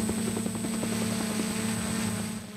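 Helicopter rotor drone from aircraft fighting a forest fire near Valparaíso, Chile, a steady pulsing hum with a high whine above it, continuous and fairly loud.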